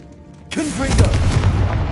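Confringo fire spell from Hogwarts Legacy bursts into a loud, sudden explosive boom after a quiet lead-in, followed by a sustained crackling, rumbling blast tail with faint tonal swirls.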